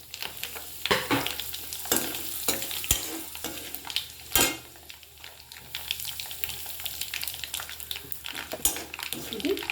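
Asafoetida and red chili sizzling in hot oil for a raw mango pickle, with steady frying crackle, spoon scrapes and pan clinks at irregular intervals, close and fairly loud.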